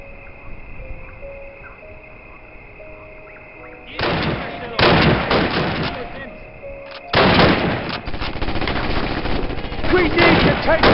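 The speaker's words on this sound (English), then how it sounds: "We need to take out those bloody machine guns!" Sustained machine gun fire in the Call of Duty: United Offensive video game, loud bursts of rapid automatic shots starting partway in, pausing briefly, then resuming over a faint ambient background with distant shots.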